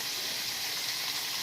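Bacon sizzles in a frying pan for an easy-over eggs and bacon breakfast, a steady, dense hiss with fine crackle that holds evenly throughout, no voices over it.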